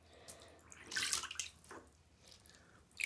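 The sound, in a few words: water bubbling while washing plush toys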